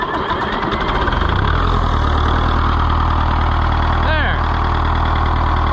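An Oliver 1355 tractor engine runs close and loud at a steady, slightly rough idle throughout, its low drone unbroken, while someone briefly speaks over it.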